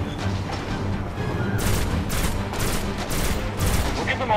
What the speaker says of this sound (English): We'll get them all shooting at me.